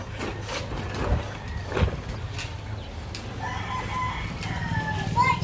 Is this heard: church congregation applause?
no